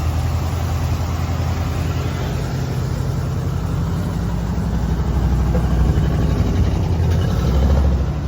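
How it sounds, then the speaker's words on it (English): A Squarebody K30 crew cab pickup truck idles steadily after a cold start, its engine giving a continuous low rumble that stays loud and even throughout. "There's a nice cold startup."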